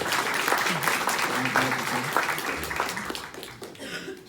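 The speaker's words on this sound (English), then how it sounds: "Round of applause." An audience applauds steadily at a talk in Dublin, a dense wash of clapping that fades toward the end, with a few voices mixed in.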